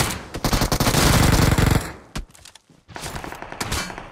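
Loud, dense automatic gunfire in PUBG Mobile (BGMI), with sustained rapid bursts for nearly two seconds, a brief sharp shot, a near-silent gap, then further scattered shots and rattling fire.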